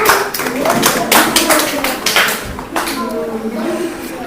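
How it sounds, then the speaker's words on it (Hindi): Schoolchildren at a primary school clapping together, a burst of quick, uneven claps that carries on for several seconds, loud and close, with voices over it. "ताली बजाओ इनके लिए।"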